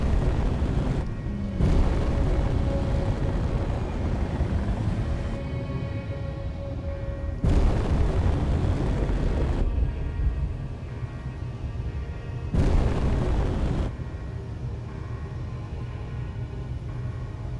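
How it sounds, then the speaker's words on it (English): Repeated heavy explosion bursts from the space game Space Engineers, three loud broadband booms with rumbling tails spread across the stretch over a steady low hum, no talk. "Bad angle for an explosion"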